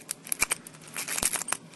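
Rake key working an Avocet rim cylinder lock: a quick series of sharp metallic clicks and scrapes, close up and fairly faint, irregular over under two seconds.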